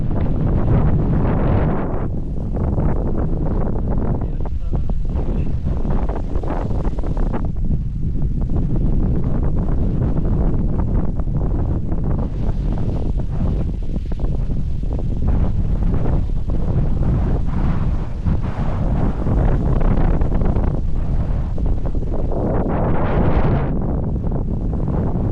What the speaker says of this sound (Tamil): நல்லா காற்று வீசுது. ஆளே தள்ளுற மாதிரி காற்று வீசுது.